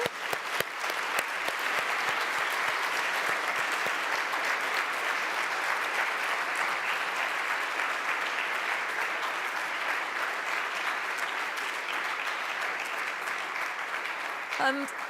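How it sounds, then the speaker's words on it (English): Sustained audience applause at a conference on adaptive social protection, a dense wash of many hands clapping that holds steady throughout and fades slightly toward the close. "A big applause for all the ones who make that possible"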